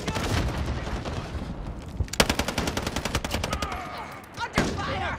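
Rapid bursts of automatic gunfire in Call of Duty: Modern Warfare, a dense run of sharp close shots with a brief pause and a final cluster, over a busy battle background with game voice callouts.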